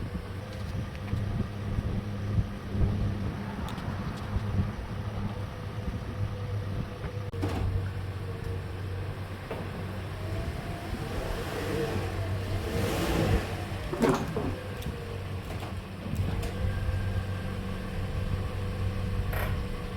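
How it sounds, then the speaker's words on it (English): A car creeping slowly forward onto Rhino Ramps, a low, steady engine idle and rumble with faint clunks and bumps throughout, no talk. "just bring the car forward slowly, don't over accelerate"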